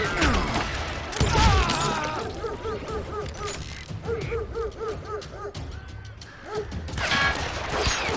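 Gunfire in the Call of Juarez: Gunslinger video game, sharp shots and crashes at the start and end of a busy battle scene, with shouting voices and other game sounds layered between them.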